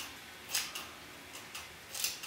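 Scissors snip through side-swept bangs in a quiet room, four or five short crisp cuts close by, spaced unevenly, with no talking.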